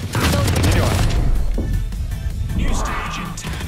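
Gunfire in Valorant during a Team Deathmatch round, with rapid bursts and booming shots up close, dense at the start and again near the end.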